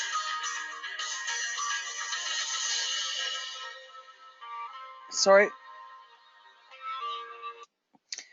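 A mobile phone rings inside a car, a melodic electronic ringtone fading out after a few seconds, followed by a woman's brief apology and some clattering handling noise.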